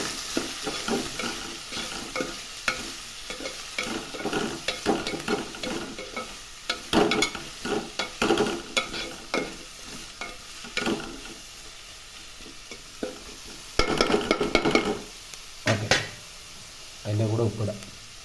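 Onions with salt sautéing in a pan for green chicken curry, a continuous sizzle broken by frequent scraping and knocking of a spatula stirring, close and fairly loud, with someone talking over it.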